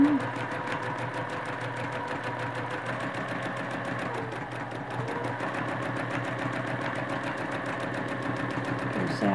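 A sewing machine quilting runs steadily with a fast, even mechanical chatter, close and continuous throughout.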